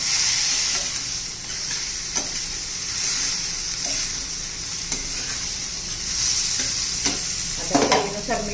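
Cluster beans fry with a steady sizzle in a pan prepared with besan, while a utensil scrapes and stirs them in irregular knocks, a louder clatter near the end.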